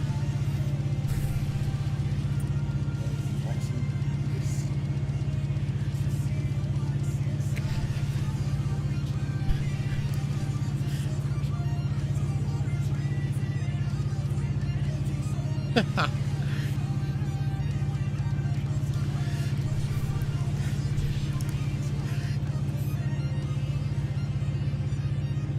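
Train engine at maximum throttle in the Run 8 railroad simulator game, a steady low diesel drone holding throughout with an even rumble, apart from one brief sharp click partway through.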